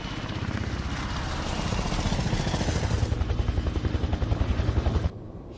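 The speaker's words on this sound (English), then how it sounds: "Boss sends his own private helicopter to get an agent back." A private helicopter in the video game Beyond Two Souls drones steadily with a rapid rotor thump, loud and close, growing slightly heavier before cutting off abruptly near the end.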